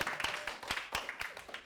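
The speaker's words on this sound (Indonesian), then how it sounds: "tepuk tangan buat kelompok 1" A school class claps for group 1, a brisk run of quick, sharp hand claps in a room, with a few voices faintly underneath.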